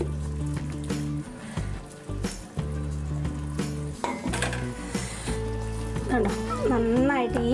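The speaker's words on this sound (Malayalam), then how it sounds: "ഞാനിവിടെ വേവിച്ച് വെച്ചിരിക്കുന്ന കപ്പ ഞാൻ ചേർത്ത് കുറേശ്ശെ ചേർത്ത് കൊടുത്ത് ഇത് നന്നായിട്ടൊന്ന് മിക്സ് ചെയ്യണേ" Cooked tapioca being stirred into Kerala-style beef in a pan, with metal spoon clinks and scraping against the pan under steady talking and background music, and a sizzle near the end.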